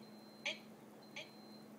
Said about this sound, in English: there's my coffee maker beeping